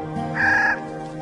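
A Clark's Nutcracker, a bird that gathers whitebark pine seeds in the mountains, gives a single harsh, nasal call lasting under half a second. It is fairly close and clear over a quiet outdoor background.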